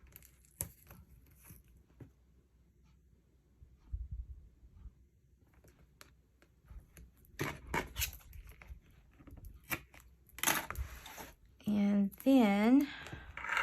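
A credit card is dragged along a composition journal's spine to cut away the paper, giving soft close scraping, scratching and tearing sounds in short bursts, with someone talking in between.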